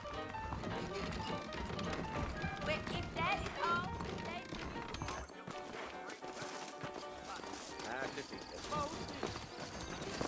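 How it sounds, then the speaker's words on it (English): Steady clip-clop of saddled horses' hooves in Red Dead Redemption runs throughout under game music and a voice talking, with a brief lull midway. "I got the horses saddled up and ready out front"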